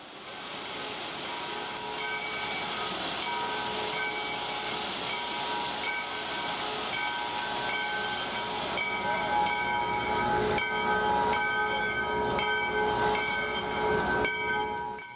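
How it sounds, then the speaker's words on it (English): Steam locomotive 148 on a sugarcane railroad hisses steadily at its service center, a continuous loud rush of escaping steam with faint tonal whistling lines, lasting throughout without talk. "Now that 148 is ready to go"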